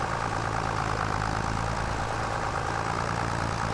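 An old farm tractor engine labours steadily at low revs, a continuous rough drone that stays near and fairly loud throughout with no talk over it.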